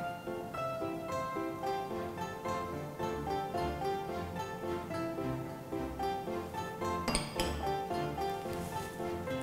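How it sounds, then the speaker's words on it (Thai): A spatula stirs and folds strawberry shortcake cookie dough in a bowl, giving light clinks and scrapes that sit under steady background music. "ใช้พายตะล่อมนะคะส่วนผสมให้เข้ากันให้หมดเลย"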